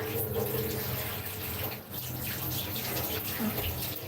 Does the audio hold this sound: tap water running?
yes